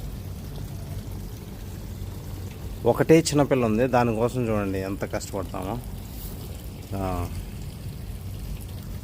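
Water pours steadily into an inflatable paddling pool set up outdoors in summer, a low continuous rush running beneath a person talking throughout.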